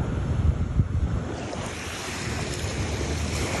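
Sea waves wash and rumble against a beach in Konaseema, Andhra Pradesh, with strong wind buffeting the microphone, a steady roaring surf throughout.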